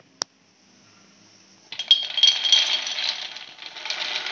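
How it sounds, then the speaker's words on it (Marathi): Makhana (fox nuts) roasting in a pan over a gas flame on low heat, a single sharp clink followed by a continuous crisp rattling and sizzling as the nuts are tossed, close and steady. "आता गॅसवर मखाणे छान भाजून घेऊया"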